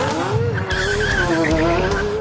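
A Bugatti Veyron and a Pagani Zonda launch together from a race start, their engines roaring loud and close with a steady, high-pitched squeal of spinning tyres across the whole moment.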